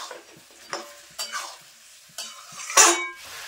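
Chicken with plenty of coriander leaves and fried potatoes stirred in a pan, giving scraping spoon strokes and bursts of sizzling at irregular intervals, one louder scrape near the end, with no voices.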